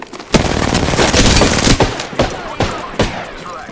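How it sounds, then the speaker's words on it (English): Rapid video game gunfire crackles loud and close in short bursts, with a few sharper single shots standing out over the sustained volley. "Shots fired."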